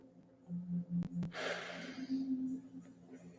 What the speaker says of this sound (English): We're going to breathe into the nose, out through the mouth 6 times.